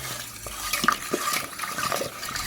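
Soy milk being stirred into a homemade taho mixture makes light, repeated clinks and liquid swishes of a utensil against a pot. The sounds come up close at an uneven pace, with no voices.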